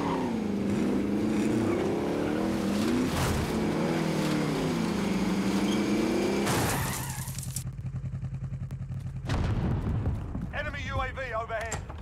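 A car driven in Call of Duty: Modern Warfare, a loud continuous engine roar that cuts abruptly to quieter game sounds with a few sharp bursts, and a voice talking over part of it.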